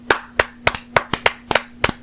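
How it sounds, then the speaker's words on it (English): Podcast hosts clap by hand in a sparse, uneven rhythm of about seven sharp, close claps, some doubled, with a steady low hum running underneath. "Let's have a quick moment to clap for Cephalopod."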